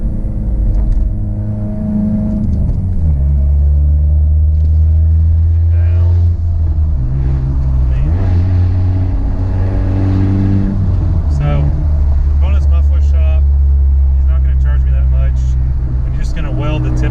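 A loud, low exhaust drone fills a closed car interior, rising and falling as the engine revs, constant and booming throughout.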